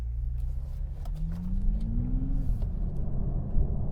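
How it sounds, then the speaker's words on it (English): A 2020 Toyota Supra driving on the road, a low engine rumble with a rising then falling tone as it accelerates, steady cabin road noise throughout. "This new Supra is actually pretty good on the motorway as well."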